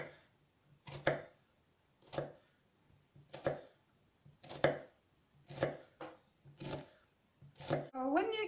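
A knife chops through an onion on a board in about eight evenly spaced, crisp thuds, close and clear, ending with a brief scraping rustle.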